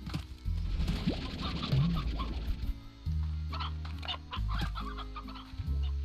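Chickens in the game Slime Rancher cluck repeatedly in short, choppy bursts with a low patter underneath, close and fairly loud, with no talking.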